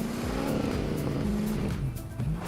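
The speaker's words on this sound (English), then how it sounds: "These new cars make a different noise as well." A fast IO car in Fortnite drives with a loud, continuous engine drone that rises and falls in pitch as it revs and shifts, close and steady, with no talking.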